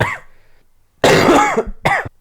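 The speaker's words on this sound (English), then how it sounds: "I'm starting to cough more" A cough at the start, then two harsh, loud coughing bursts from a person with COVID, close to the mic, the second shorter, with quiet gaps between.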